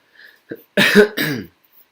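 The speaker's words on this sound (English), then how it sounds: "Again, my coughing." Two harsh coughs close up, one right after the other, preceded by a faint throat sound.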